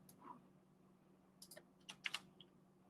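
Typing on a computer keyboard, a few quiet, close key clicks in short bursts over a low steady hum in a quiet room.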